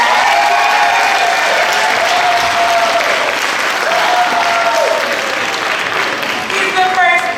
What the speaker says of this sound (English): Let's give a round of applause for Dad.